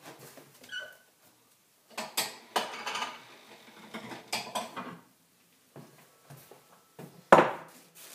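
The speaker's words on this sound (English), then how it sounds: "I'm going to get a bowl." Someone gets a bowl out for soap making, and scattered clatters and knocks of dishes and hard objects follow. A sharper clack near the end stands out against quiet gaps.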